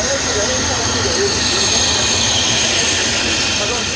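The Khyber Steam Safari steam train runs on a single engine through the Khyber Pass mountains. A loud, steady hiss and rumble continues for the whole stretch, with little variation.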